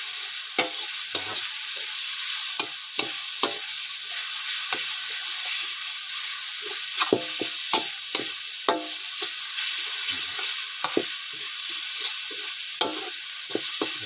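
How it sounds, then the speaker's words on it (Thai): Aromatics stir-fried in hot oil for a spicy catfish curry, with a steady background sizzle broken by frequent sharp scraping clicks of a spatula against the pan, close and alone. "ผัดเครื่องหอมเลยนะครับ"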